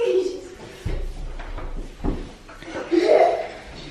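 An indoor door at home slams in a couple of heavy, close thuds while people talk and argue around it.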